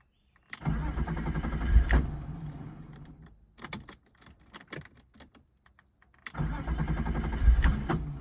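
A BMW E36 with a newly installed mass airflow sensor cranks and catches twice, each time settling into a rough idle. Between the two starts come quiet clicks and clatter, and no one speaks.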